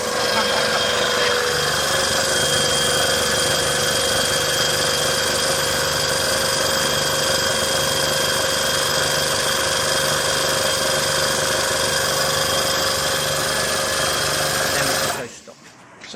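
A Euromair MixPro 28 rendering and floor screed machine running, a loud steady mechanical drone with tonal hum and rattle that holds for about fifteen seconds before cutting off abruptly.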